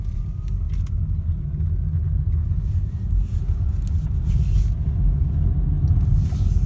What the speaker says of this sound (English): The engine has kicked in now,